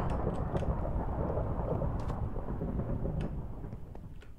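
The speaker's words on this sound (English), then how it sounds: "I'm hearing thunder" Thunder in the Skywars video game, a steady low rumble that holds for several seconds, broad and fairly loud, with faint crackles above it and no voices.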